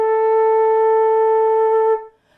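A flute sounds a single sustained A, steady and clear with a pure tone, held for about two seconds before it stops cleanly, played alone.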